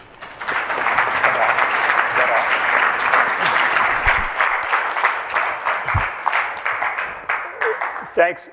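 At an evening lecture, an audience claps in a sustained, even round of applause to welcome the speaker, gradually thinning into scattered claps near the end.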